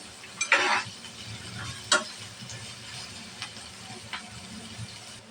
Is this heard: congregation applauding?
no